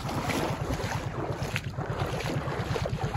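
Steady wind roars and buffets across a microphone on a boat on the way to Assam, India, a dense, continuous rush with a low rhythmic engine-like throb beneath, loud and close throughout.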